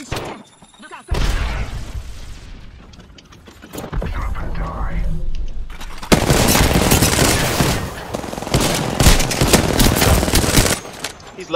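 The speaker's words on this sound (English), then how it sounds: "I'm getting shot at" Rapid bursts of automatic gunfire from the battle royale game Apex Legends, loud and dense, with sustained volleys and booming shots dominating most of the stretch while players talk over the fight.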